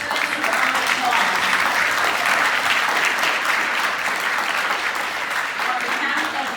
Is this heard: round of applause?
yes